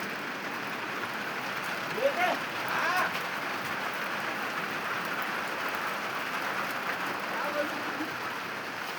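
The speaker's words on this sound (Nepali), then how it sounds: "यो चाहिँ कुटी डाँडामा हो अहिले पानी परिरहेको" Steady rain falling on a hillside at Kuti Danda, a constant soft hiss of drops on surfaces, with brief speech-like sounds and faint voices passing under it.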